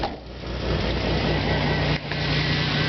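A 1984 Buick Skylark's 2.8-liter V6 idling after a cold start, a steady, loud engine rumble with a low hum throughout and a brief dip near the end.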